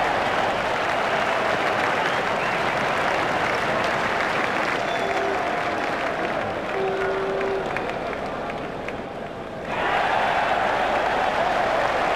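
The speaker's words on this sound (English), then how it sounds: "The crowd is rising to Chanderpaul" A cricket crowd at a South Africa versus West Indies one-day international applauds Shivnarine Chanderpaul, dense continuous clapping and crowd noise filling the stadium, briefly easing before surging again near the end.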